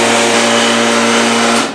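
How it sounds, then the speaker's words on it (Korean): The pump of an espresso coffee machine runs dry because no water is reaching it, giving a loud, steady, close roar with a droning hum that cuts off abruptly at the end. "펌프가 이제 공회전이 되면서 이제 이런 굉음을 내게 돼요"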